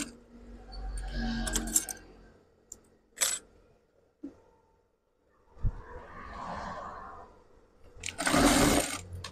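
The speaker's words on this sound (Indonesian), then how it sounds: "Kemudian kita jahit ya" A sewing machine stitches lace onto a wavy curtain in several short bursts of whirring with quiet pauses and small clicks between runs.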